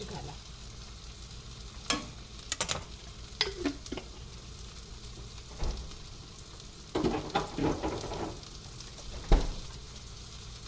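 Onions with goda masala and chilli paste are frying in a pan under a soft steady sizzle, broken by occasional spatula scrapes and clatters as the mixture is stirred, close and without talk.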